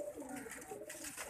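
Newly released pigeons coo softly in a low, rolling murmur, close by and continuous, with faint background noise and no clear talk.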